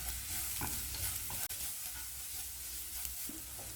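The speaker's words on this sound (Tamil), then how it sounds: "கருவேப்பிலை, லேசாக ஒரு பரட்டுனா போதும்" Curry leaves and shredded cabbage sautéing in a pan, with a steady soft sizzle and occasional stirring scrapes, fairly quiet and with no voices.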